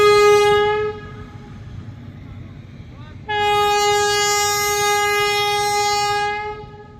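A train runs past and sounds its horn in two long, loud harmonic blasts. A short gap between them lets the rolling rumble of the wagons through underneath.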